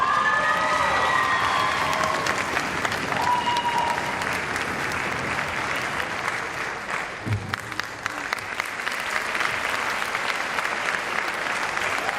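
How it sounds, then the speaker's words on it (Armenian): Steady, dense audience applause fills an award ceremony hall for many seconds, a continuous crowd of clapping hands with a few faint shouts and cheers mixed in. "շարունակենք ծափարությունները"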